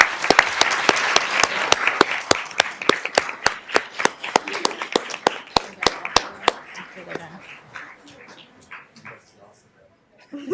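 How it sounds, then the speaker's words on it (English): An audience at a Board of Education meeting claps, with sharp individual claps and a dense applause wash that thins out over about seven seconds, then fades into quiet room noise. "Please join me in giving her a round of applause."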